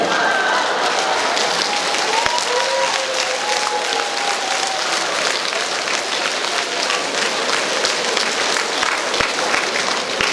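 A concert audience applauds at a humour show in Truskavets, dense steady clapping filling the whole stretch with a few faint voices and whoops mixed in.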